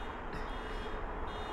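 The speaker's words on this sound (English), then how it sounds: "you can hear that American jet set off a car alarm" Car alarm near London Heathrow, triggered by a passing jet: a steady, faint electronic beeping tone sits above a continuous low rumble of distant jet noise throughout.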